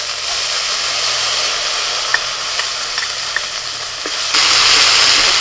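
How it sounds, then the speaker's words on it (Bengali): Ginger-green chili paste and dry chili-cumin paste fry with fish in a pan, a loud continuous sizzle with a few small clicks of stirring and a sharper burst of hissing near the end. "আদা কাঁচা লঙ্কাটা একটু ভেজে নিয়ে এবার দিয়ে দিচ্ছি শুকনো লঙ্কা জিরে বাটা"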